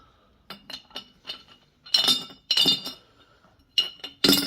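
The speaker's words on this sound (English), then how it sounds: "I'm going to try to drop them in there without breaking the glass." Heavy, shiny metallic iron pyrite crystals are dropped one by one into a glass extraction vessel, giving a series of sharp, bright clinks and clatters that grow louder toward the end.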